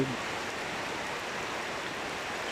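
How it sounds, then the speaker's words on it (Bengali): Steady nighttime rain in a rural union of Kashiani, Gopalganj, falling on windless, still trees: an even, unbroken hiss at a moderate level with no distinct drops or pauses. "বৃষ্টি থামছে না, বৃষ্টি একটানা নামতেছে।"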